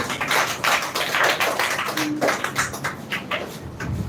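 An audience applauds after a speech on the status of women, giving a dense, steady patter of many hands clapping at moderate loudness for a few seconds.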